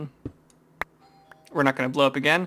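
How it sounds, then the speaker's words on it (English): A doorbell chimes with a couple of brief, sharp tones, followed by a person speaking close by. "And that is my doorbell"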